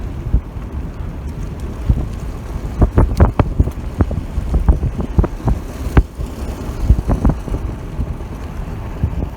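Gusty wind buffets the microphone outdoors on a cattle ranch, low rumbling roar with irregular thumping bursts clustered in the middle, loud and close, no voices.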